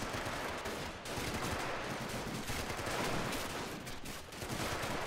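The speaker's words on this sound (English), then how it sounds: "Machine gun still covering the center of the garden." Sustained machine gun fire mixed with other gunfire in a Men of War: The Pacific mod battle storming Shuri Castle, a dense, continuous loud rattle of rapid shots across the whole stretch with no talking.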